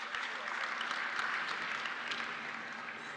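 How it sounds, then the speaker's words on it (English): Faint, steady round of applause from an audience at a formal state legislative event in Nigeria, continuous and distant, welcoming dignitaries. "Please let's welcome all of them with a round of applause"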